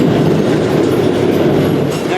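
A freight train rolls through the night in Argentina, heard from on board as a loud, continuous rumble with steady rattling and clatter from the wagons.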